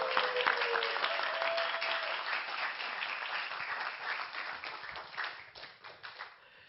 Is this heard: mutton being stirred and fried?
no